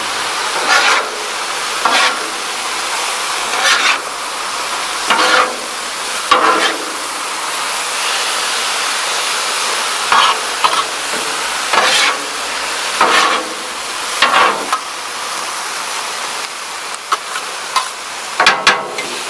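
Shaoxing wine hits a hot Blackstone griddle during a noodle stir fry, giving a steady loud sizzle punctuated by repeated scraping and tossing strokes from a spatula.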